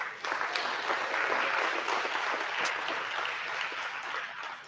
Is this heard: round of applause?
yes